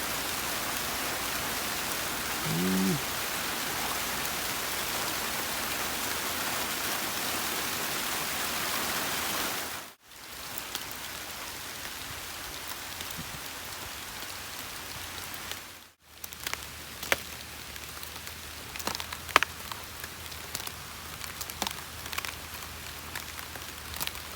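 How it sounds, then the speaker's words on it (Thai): Steady rain pours down in a forest in a dense, continuous hiss, easing after a break into lighter patter with scattered distinct drops. "ฝนมาละ โอ้ตาย ตกกลางป่าเลยพี่น้องเลย"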